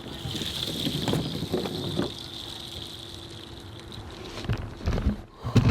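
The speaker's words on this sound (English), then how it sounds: "Yeah, we have a leak." A leak inside an RV, heard up close, makes a faint, steady high hiss with soft rustling and handling bumps around it.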